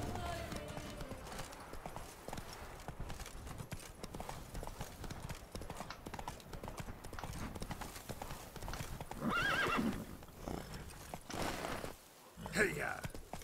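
Roach, the horse in The Witcher 3, gallops with steady clip-clop hoofbeats and whinnies loudly, game music and effects layered underneath, with a player talking over parts of it.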